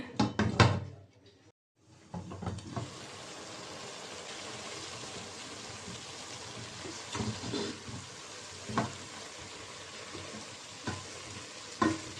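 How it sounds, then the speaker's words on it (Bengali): A lid is set onto a pan of frying winter vegetables, giving a sharp knock over steady sizzling, with a few softer clanks and taps later as the frying hiss continues. "এখন ঢাকনাটা দিয়ে রাখলাম"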